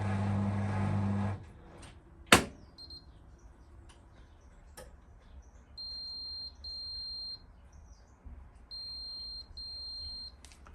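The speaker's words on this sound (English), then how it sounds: "that's the beep that it has" A Beko bPRO500 10kg washing machine gives its quiet end-of-cycle signal: two short pairs of clean electronic beeps, a few seconds apart, over a faint hum after a louder noise fades out.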